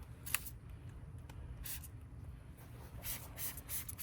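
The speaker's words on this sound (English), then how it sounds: "Spray, mist the wheels down" Several short hissing bursts of a spray bottle misting a 1-to-1 alcohol and water mix onto car wheels, spaced irregularly, quiet and close, with a couple of faint clicks between.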